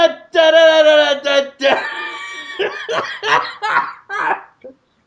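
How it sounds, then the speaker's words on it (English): A man on a comedy podcast laughs hard and breaks into coughing, with loud close bursts of laughter and hacking mixed with some speech-like voicing. "But I made myself cough with laughing"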